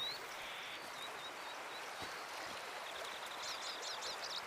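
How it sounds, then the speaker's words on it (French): A riverbank where the river flows with a steady, full rushing wash, with faint bird chirps high above the water noise near the end. "moi qui voulais être tranquille au bord de la rivière pour pouvoir vous parler"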